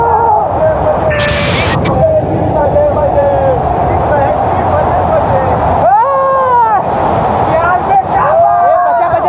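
Rohtas waterfall near Sasaram, a steady broadband rush of falling water that runs continuously throughout, with people talking over it and a few brief whistling tones.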